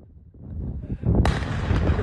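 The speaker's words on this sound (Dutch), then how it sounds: "Op sociale media circuleren namelijk beelden van een flinke explosie net buiten Krabbendijken." A large explosion just outside Krabbendijke, Zeeland, around New Year, with a giant fireball: a rumbling low boom builds, then a sharp loud blast bursts out and rolls on with heavy crackling rumble, heard alone without voices.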